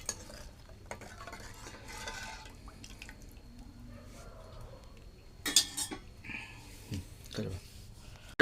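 Cowpea kadhan in a cooking pot stirred with a spoon after salt goes in, soft wet swirling and scraping with a few sharp metallic clinks of spoon on pot midway, close and moderate in level.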